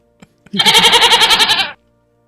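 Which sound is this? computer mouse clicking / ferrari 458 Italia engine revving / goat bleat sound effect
goat bleat sound effect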